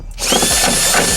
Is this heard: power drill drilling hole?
yes